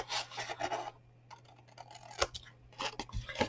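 Scissors snipping through decorative paper while cutting out a gift box template, with short rasping cuts in bursts close up and brief pauses between, no talking.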